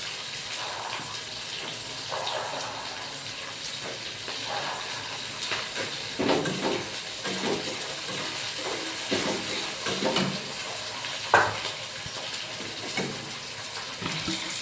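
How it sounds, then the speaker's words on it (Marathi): Green peas fry in hot oil in a pan with chillies, a low steady sizzling hiss with scattered soft pops and a few faint utensil clicks. "आता आपण मटर सोडून देऊया कारण की तेलामध्ये शिजले पाहिजे"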